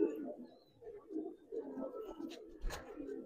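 Giribaz and coloring pigeons give soft, low, repeated coos, faint and close, with a brief clatter near the end.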